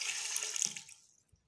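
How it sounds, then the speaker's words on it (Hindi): Water pours from a tap into a pot for mutton biryani, a steady close splashing stream that tapers off and stops after about a second, with no one talking. "पानी इसके अंदर मैं ½ kg डाल रही हूँ।"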